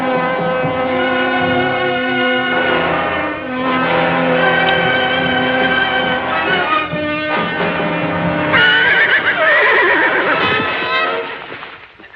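A horse neighs loudly and at length, its whinny rising and wavering in several long, close bursts with a shaky trailing end.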